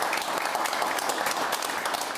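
Dense, steady applause from a studio audience welcoming a debate-show guest, a continuous wash of many hands clapping without pause.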